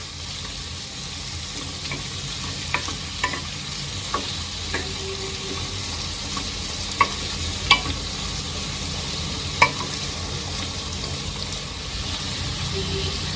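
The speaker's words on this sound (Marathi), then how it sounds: "भोपळ्याला चांगलं मी एकत्र करून घेते सगळं" Red pumpkin pieces being stirred into fried seasoning in a pan, with a steady soft sizzle and a few scattered spoon scrapes and clinks over it.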